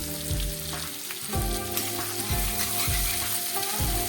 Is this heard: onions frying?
yes